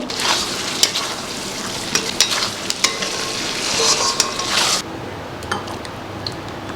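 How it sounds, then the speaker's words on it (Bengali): Chicken kofta curry sautés in a pan with close, busy scraping and stirring over a steady sizzle, marked by sharp utensil clinks, before it eases into a quieter simmer. "কষাতে হবে 1 মিনিটের মতো।"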